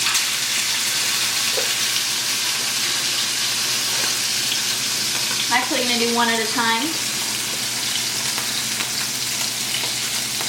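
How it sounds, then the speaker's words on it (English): A bass fillet fries in hot oil in a pan with a steady, loud sizzle that runs throughout, while a person talks briefly midway. "For the bass, you want to make sure you get some oil on a pan and it's nice and hot."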